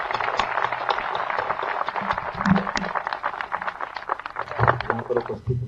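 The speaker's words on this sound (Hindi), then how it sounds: "एक बार तालियां बजा दीजिए।" Audience applause at a public gathering in Uttar Pradesh honoring soldiers: a dense, steady wash of many hands clapping that lasts the whole stretch, with a few swells and some faint voices mixed in.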